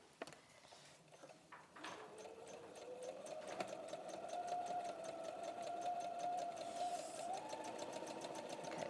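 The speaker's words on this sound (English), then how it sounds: "I'm going to sew my seam." A sewing machine stitches a seam along a zipper in steady, continuous running bursts that pick up speed midway and hold a fast, even whir, close to the mic with no talking.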